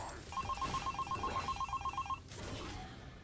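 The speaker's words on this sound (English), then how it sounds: "when the phone rang" A telephone in a hotel room rings in a rapid electronic trill for about two seconds, loud and close, then stops, leaving a low room hum.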